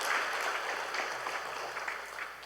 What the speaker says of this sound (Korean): 자리에서 일어나실 때 한번 따뜻한 박수로 우리 함께 해주시기 바랍니다